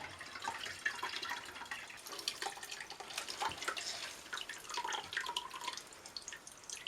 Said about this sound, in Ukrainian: І потихеньку починаємо відпресовувати спиртовмісну рідину.